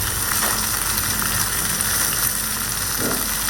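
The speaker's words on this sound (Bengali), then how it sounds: "আগে থেকে ভাপায় রাখা কলবি শাক দিলাম এতটুকু ভাজবো" Steamed water spinach fries in a pan with a constant, fairly loud sizzling hiss and no voices.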